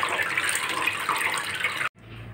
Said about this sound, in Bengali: তোমরা তো দেখলে আমি টমেটোগুলো সুন্দরভাবে ধুয়ে নিয়েছি